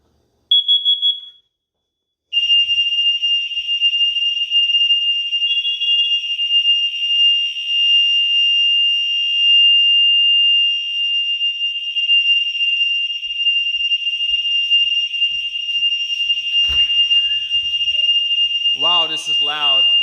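Simplex electro-mechanical fire alarm horns blare in a loud, continuous march-time pattern during a system test, after a brief opening burst, with a voice speaking near the end.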